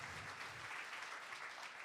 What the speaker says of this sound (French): on donne une bonne main d'applaudissement